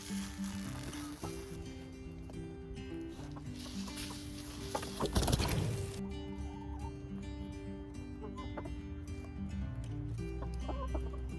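Backyard chickens cluck steadily while pecking at homemade feed, with soft scratching and a brief rustle midway, continuous and close throughout.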